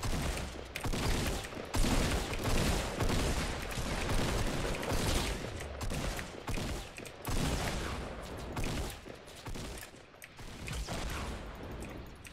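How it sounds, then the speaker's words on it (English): Sustained bursts of automatic gunfire from an opposing squad in a video game battle, loud and dense, with rapid overlapping shots and brief gaps throughout. "Someone's shooting at us."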